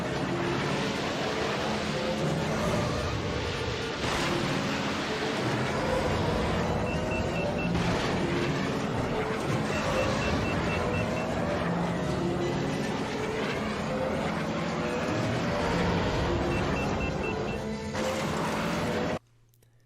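Podracer engines from the 1999 game Star Wars Episode 1: Racer roar continuously, a loud dense whine with rising and falling pitch sweeps as pods race, sustained for the whole stretch before cutting off abruptly at the end.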